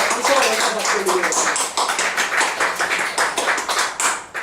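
A church congregation claps along in rhythmic bursts, close and fairly loud, while a voice rises over the clapping at the start.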